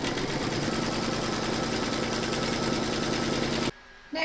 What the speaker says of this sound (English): We're now going to pop that into your machine and stitch round number 3 to secure it.